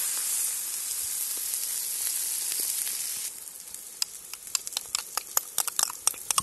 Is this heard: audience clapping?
no